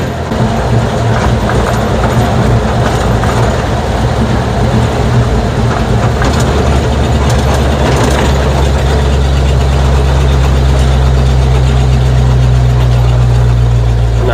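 Steady car engine and road rumble while driving through Spartanburg, a loud continuous low drone with a deepening hum toward the end, with no talking.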